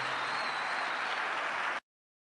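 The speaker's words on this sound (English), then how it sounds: "Bin Salman gives that a rousing round of applause" Audience applause from a crowd at a political event, dense and steady, then cutting off abruptly.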